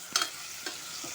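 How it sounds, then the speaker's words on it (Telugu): Tomato pieces frying in a pan for koyya thotakura pulusu, with a soft, steady sizzle and a few faint scraping stirs of a spoon, quiet and close, with no voices. "ఈ టమోటా ముక్కలు వేసుకున్నాక కూడా కొద్దిగా ఫ్రై చేయండి."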